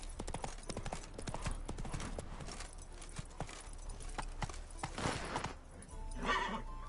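Horse galloping in The Witcher video game, rapid hoofbeats thudding steadily up close, followed by a whinny near the end against game ambience.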